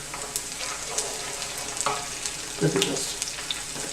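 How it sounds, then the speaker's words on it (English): Steady sizzling of onions and chilies frying in a pan, with occasional stirring scrapes and clinks, close and continuous. "I'm frying the onions, and I'm frying the chilies"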